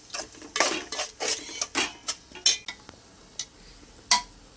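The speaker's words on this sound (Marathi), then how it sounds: "पावभाजी मसाला मी टाकलेला आहे मिक्स करून घेते" A spoon stirs pav bhaji masala into a pan at home, clinking and scraping against the metal in a quick, uneven run of sharp taps with no talk.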